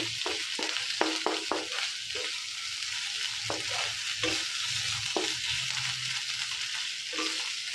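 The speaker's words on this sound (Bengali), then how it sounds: "এবার আমি কিছুক্ষণ এটা নাড়াবো" Green chili, ginger and garlic paste stirred in hot oil, a steady sizzle with repeated spoon scrapes and taps against the pan, close and alone.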